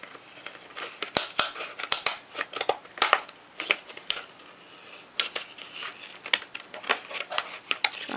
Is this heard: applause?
no